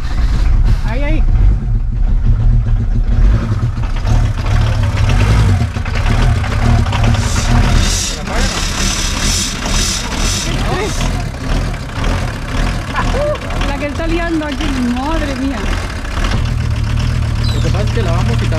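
A VW T4 camper van engine idles steadily after a hard start, a loud continuous low rumble throughout with people talking over it.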